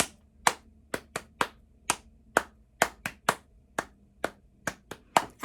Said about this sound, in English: I hope you were clapping along with me